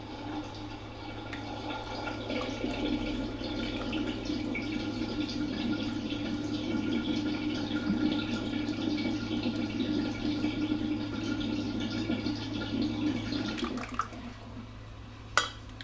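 A thickened melted butter mixture is poured carefully into a dish while baking a dessert, giving a steady, continuous liquid pour for about fourteen seconds before it tails off, heard close and fairly quiet with no talk.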